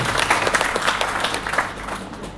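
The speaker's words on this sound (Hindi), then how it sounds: "जोरदार ताली के साथ अभिनंदन करता हूं" Hall audience breaking into dense, loud applause to welcome women at a martyrdom-day commemoration, steady clapping filling the whole moment with no speech on top.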